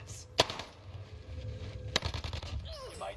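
Gunfire in an online shooter game: two sharp, isolated shots about a second and a half apart, followed by a scatter of lighter pops, with game effects in the background.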